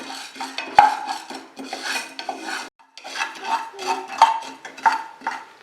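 Toor dal dry-roasts in a pan, the dry lentils scraped and stirred in rhythmic rasping strokes with occasional metallic clinks of the spoon against the pan, close and steady with a brief pause midway.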